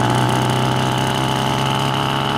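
A moped engine runs steadily in a garage, a loud, continuous idling drone with an even low hum and no pauses.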